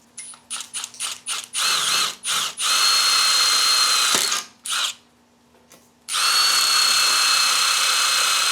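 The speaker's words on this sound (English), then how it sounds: "go ahead and get some holes drilled out there" A power drill boring holes for beach cart brackets: quick stuttering bursts of the motor at first, then long loud sustained whirring runs broken by a brief pause, close and alone without speech.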